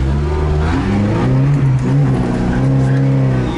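A Lada Zhiguli slides sideways on a snowy road, its engine droning loudly and steadily throughout with shifting pitch as it drifts, the tone rising and falling.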